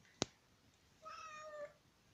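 A small pet cat gives a single soft, drawn-out meow, quiet and close, preceded by a brief sharp click in an otherwise hushed room.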